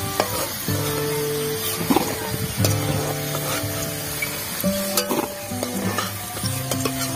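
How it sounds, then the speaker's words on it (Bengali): Potatoes frying in hot oil, giving a constant close sizzle and crackle with repeated utensil scrapes and clinks from stirring, plus a steady humming tone running underneath. "তেল গরম হয়ে গেছে, আলু কটা ভেজে নেব।"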